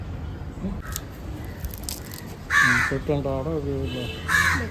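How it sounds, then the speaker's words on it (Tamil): Crows cawing at an outdoor family feast where mutton and chicken curries are served, harsh calls breaking out twice over ongoing talk and background bustle. "காக்கா தொல்லை"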